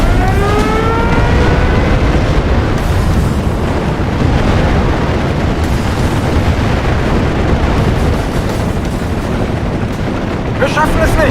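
Artillery fire and explosions rumble continuously in the Normandy battle of Steel Division, a loud, dense roar of blasts and booms, with German radio voice lines calling out over the barrage.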